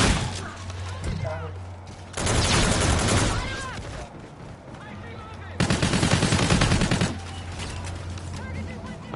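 Rapid gunfire in a shooter video game, with loud bursts of automatic fire in two heavy stretches over continuous game noise and scattered shots between.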